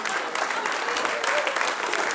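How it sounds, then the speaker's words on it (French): An audience at a charity couscous evening in Chambéry applauds a dance troupe with steady, continuous clapping at close range for a couple of seconds. "Vraiment énormément d'applaudissements."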